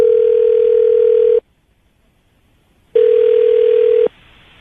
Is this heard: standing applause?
no